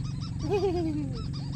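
One loud, nasal goose-like honk rises and trails off, standing out over a steady low background hum.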